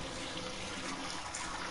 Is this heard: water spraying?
yes